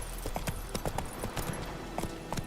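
A horse gallops in The Witcher 3: Wild Hunt, fast rhythmic hoof clip-clop over a steady background wash, moderately close, with no voices.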